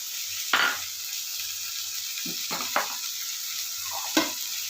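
Leafy greens and fried green banana pieces sizzle in hot oil in a pan. A soft constant crackle is broken by several spatula scrapes and stirring knocks.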